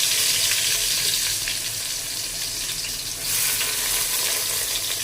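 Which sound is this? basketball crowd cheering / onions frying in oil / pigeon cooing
onions frying in oil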